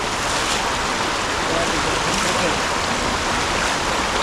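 Strong floodwater current rushing through a flooded old forest, a loud, close, unbroken roar of turbulent water that holds steady throughout.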